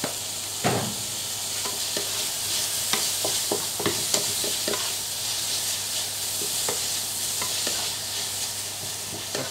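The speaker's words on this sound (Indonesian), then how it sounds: "Tumis sampai layu." Wild greens sautéing in a pan with sugar, salt and seasoning: a constant close sizzle broken by repeated scraping stir strokes against the pan.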